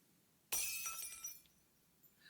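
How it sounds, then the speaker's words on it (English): Glass shatters in a plaza in the video game Cinderella Phenomenon, one sudden loud crash followed by tinkling shards that fade over about a second. "The sound of shattered glass echoes across the plaza."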